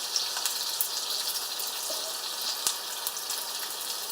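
Battered sweet and sour pork balls frying in hot oil, a steady bright sizzle and crackle with scattered pops, continuous and fairly close.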